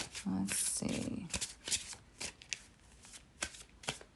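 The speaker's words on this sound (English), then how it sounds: "you'll notice that I shuffle the OG way" Tarot cards being shuffled by hand in a plain overhand style, producing soft riffling swishes and light taps in irregular bursts, close and quiet, with a person speaking over parts of it.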